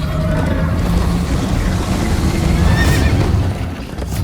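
A horse whinnies loudly in Minecraft: Story Mode over a busy, noisy background of hoofbeats and rumble, the neigh rising and wavering before fading.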